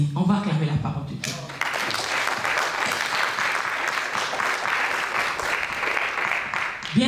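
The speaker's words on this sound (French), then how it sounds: "On va acclamer la parole de Dieu." A church congregation bursts into sustained applause after a preacher's spoken line, clapping dense and steady for several seconds with a few voices mixed in.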